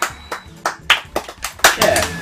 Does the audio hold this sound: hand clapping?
yes